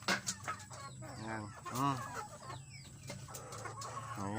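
Native chickens clucking and squawking nearby in a busy, irregular stream of calls while being fed, with faint farmyard background noise.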